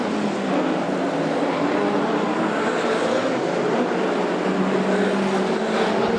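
Speedway race cars racing at Archerfield Speedway in 2013, a dense, continuous roar of engines at steady loudness, broad and rough like several cars passing together without pause.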